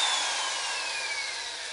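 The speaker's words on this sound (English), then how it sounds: "This is my drill, which is plugged into the inverter." A corded power drill run from a small solar shed's inverter whines steadily at high speed, its pitch sagging slightly as it spins, loud and close with no talking.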